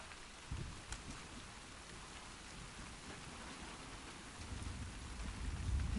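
Storm rain in The Last of Us Part II falls as a faint, steady hiss, with soft low rumbles of thunder swelling near the end and no voices.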